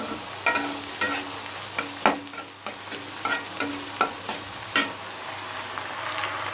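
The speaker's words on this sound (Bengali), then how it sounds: "এখানে মুরগির মাংসের পেঁয়াজটা ভাজা হইতেছে" Onions for a chicken dish fry with a soft continuous sizzle in a pan, broken by repeated scraping taps of a spatula stirring at an irregular pace.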